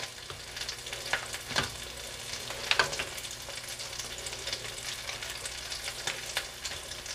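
Beef and Guinness stew gets stirred with thickener added, a soft bubbling simmer broken by repeated spoon scrapes and clinks against the pot, close by, with no voices.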